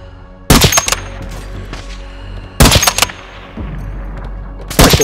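Three loud bursts of rapid gunfire from Call of Duty DMZ ring out a couple of seconds apart, each followed by a fading rumble.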